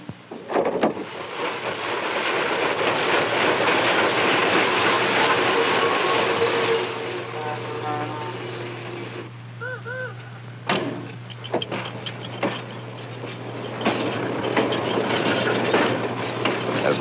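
Freight trains moving through the New York Central frontier yard at Buffalo in the 1950s, a steady loud rumble and clatter of rail cars with a low sustained drone, brief squeal-like tones and sharp clanks partway through.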